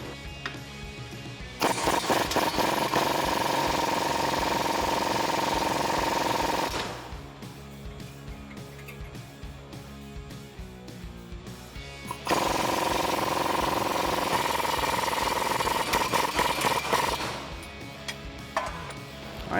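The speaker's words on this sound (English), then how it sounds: "remove the 2 bolts holding the factory strut to the spindle" Rapid mechanical rattling of a power or impact wrench driving 21 mm bolt heads that hold a factory strut to the spindle on a 2015-2020 vehicle, in two loud sustained bursts separated by quieter workshop noise.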